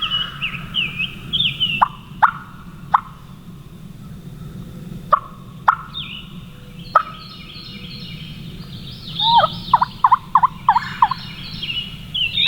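A wild turkey gobbler on Alabama public land gobbles repeatedly, sharp loud bursts in quick clusters echoing through quiet woods with a low background hum, several separate calls then a rapid string near the end.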